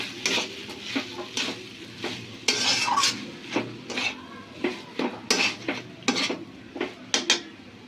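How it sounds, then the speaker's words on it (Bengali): Grated coconut is stirred into thickened semolina in a pan, a spoon scraping and clinking against the metal in irregular strokes, with a faint sizzle underneath. "নারকল কোড়া দিয়ে দিলাম সুজির ভেতরে ভালো করে নাড়িয়ে নিই"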